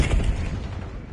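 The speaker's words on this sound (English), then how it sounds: "Lobbing cluster grenade." A cluster grenade explodes in a Call of Duty game, one loud, close boom with a broad crackling burst that decays over about a second.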